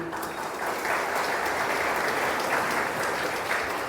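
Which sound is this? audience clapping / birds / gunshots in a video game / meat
audience clapping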